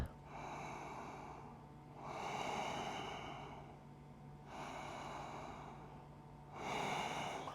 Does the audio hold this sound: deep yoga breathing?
yes